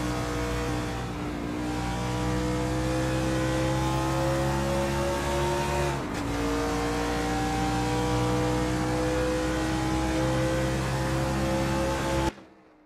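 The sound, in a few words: NASCAR race cars on track in video game Assetto Corsa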